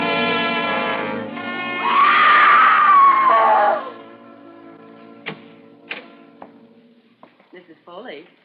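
A woman's loud, sustained scream in a radio drama, rising out of orchestral music and lasting about two seconds, followed by a few sharp knocks and softer sounds.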